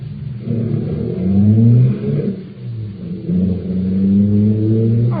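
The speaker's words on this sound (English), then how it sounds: "I'll start the car." Old radio-drama car engine turning over and revving up in two rising surges, a close, loud mid-pitched roar with no talk.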